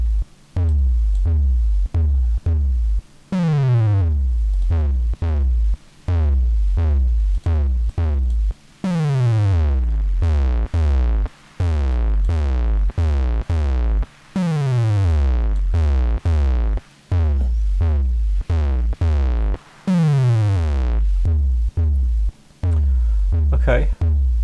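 Two layered bass audio parts play back together in the Reaper DAW: deep repeating bass hits with sweeping pitch drops in a steady looping rhythm, loud and alone with no talk.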